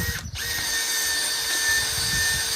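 A cordless drill bores steadily into the trunk of a dead tree fern, with a continuous high motor whine and grinding, briefly dipping near the start.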